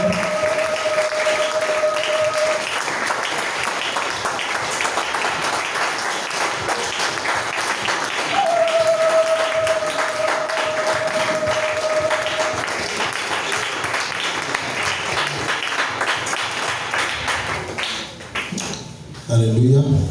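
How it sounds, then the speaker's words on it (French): Church congregation clapping their hands in worship, a dense, steady patter of many hands lasting throughout, with a sustained musical tone and a voice speaking over it. "Clap your hands for the Lord."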